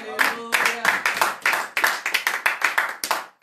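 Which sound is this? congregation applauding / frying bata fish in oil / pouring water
congregation applauding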